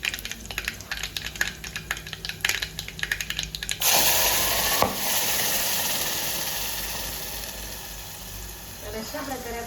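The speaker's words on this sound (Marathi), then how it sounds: "तर अशा प्रकारे आपण तडका दिलेला आहे चटणीला" Hot tempering for a chutney hits the pan with a sudden loud sizzle after a run of light clattering. The hiss is close and steady and slowly fades, with faint voices near the end.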